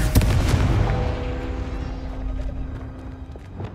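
A Confringo blast spell in Hogwarts Legacy erupts as a loud burst, with a booming impact at the start that rolls off into a decaying rumble and a faint lingering ring.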